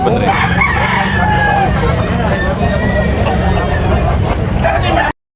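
A rooster crows amid a dense crowd hubbub at a chicken market in Tabunok, Talisay, Cebu, with clucking fowl and steady background chatter filling the scene.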